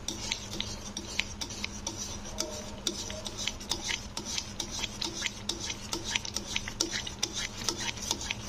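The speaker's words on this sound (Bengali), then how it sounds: "তো এইভাবে ঘন ঘন নাড়তে হবে সুজিটাকে।" Semolina stirred in a pan for suji halwa: soft rhythmic scraping and rubbing strokes repeat quickly and steadily, close but fairly quiet, with no voices.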